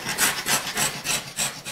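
Epoxy grout is scrubbed across a tile floor in steady back-and-forth strokes, a loud, close, rasping rub repeating about every third of a second with no talk.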